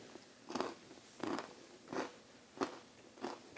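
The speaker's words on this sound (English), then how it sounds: "Did you hear that crunch?" Five crisp crunches spaced about evenly apart, close and fairly quiet, as teeth break through brittle, hard chocolate-topped toffee.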